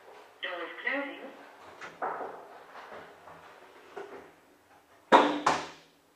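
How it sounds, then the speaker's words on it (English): An automated voice announces in a lift, then the lift door closes with a loud double clunk near the end. "Door is closing."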